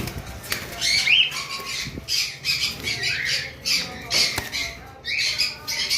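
An albino cockatiel breeding pair, large-bodied birds, squawk repeatedly in short harsh bursts, close and fairly loud, with a little wing flutter and rustling between calls.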